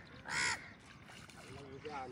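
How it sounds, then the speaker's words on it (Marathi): A crow caws once, fairly close, beside a flooded rice field where paddy is being sown, with a short harsh burst standing out over quiet outdoor background and a faint later call. "आणि हा कावळा काय बघतोय, मासे बघतोय"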